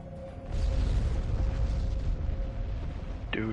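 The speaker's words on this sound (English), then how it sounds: "Oh, I need to turn for the explosion." Explosion in a PS5 video game, a deep booming blast that swells and rumbles for a few seconds before fading into a steady low game soundscape.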